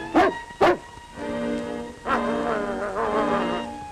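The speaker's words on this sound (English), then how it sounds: "Brought along a wolf dog for protection." A wolf dog in a 1938 Yukon adventure film gives two sharp barks, then a drawn-out whining howl with wavering pitch, loud and close.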